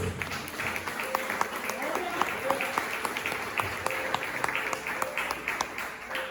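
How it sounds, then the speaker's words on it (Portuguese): Church congregation applauding during a sermon, a sustained bed of many hands clapping at moderate volume with a few sharper individual claps standing out, and voices mixed in beneath. "Então pode aplaudir o nome de Jesus."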